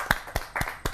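Four separate, sharp claps spaced roughly evenly at a Hindi kavi sammelan poetry gathering, greeting poet Preeti Tripathi; close and fairly loud with no voices.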